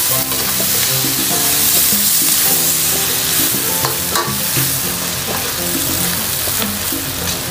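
Stir-fried pork intestine with onion sizzles loudly in a pan while being stirred, with scraping utensil clatter over a continuous frying hiss; no one speaks.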